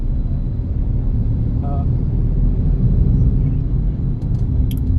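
A car being driven along a road gives a steady, loud low rumble of engine and road noise throughout, with someone speaking briefly over it.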